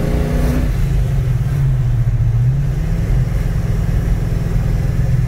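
A 1971 Ford XY Falcon GT replica's engine revs hard, rising and settling in a loud, steady roar close by, with no talking.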